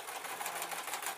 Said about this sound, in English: the teeth on the sewing machine, so it's kind of complaining a bit